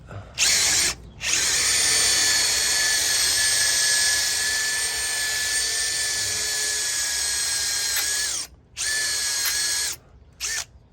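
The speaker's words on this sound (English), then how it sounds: "Now I'm coming in with the 5mm drill bit." A power drill fitted with a 5mm bit whines steadily at close range for several seconds, briefly stopping and restarting near the end.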